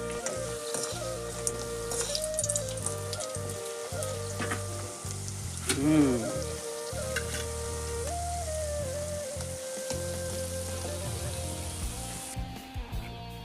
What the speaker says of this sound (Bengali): এখন চমচমগুলিকে দিয়ে দেওয়া হয়েছে, চমচমগুলি ভাজি হয়ে যাক।